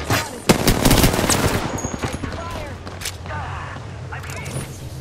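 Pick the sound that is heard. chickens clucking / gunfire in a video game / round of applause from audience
gunfire in a video game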